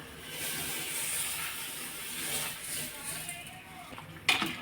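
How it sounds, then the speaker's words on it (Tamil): Water rolls at a strong boil in a pot while chicken biryani is cooked, before the rice goes in. It gives a steady, soft hiss and bubbling, and a sharp clink sounds near the end. "நல்லா கொதிக்குது."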